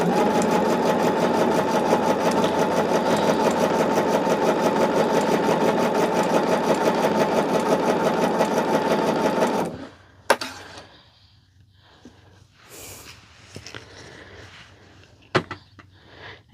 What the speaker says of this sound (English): I am sewing with you.